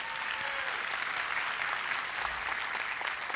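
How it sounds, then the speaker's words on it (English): A church congregation claps for the fathers present at a Sunday service, a steady even wash of applause heard from a moderate distance, with no voices on top. "Give them a round of applause."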